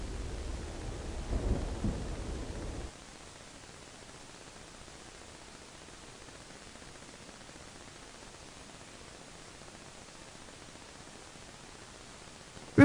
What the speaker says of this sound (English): Soon, big fat raindrops were falling splish-splash all around Rebecca and her dad.